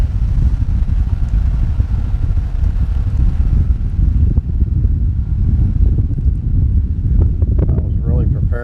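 Strong wind buffeting the microphone outdoors while fishing, a loud continuous low rumble that eases slightly near the end, with a voice talking briefly toward the close.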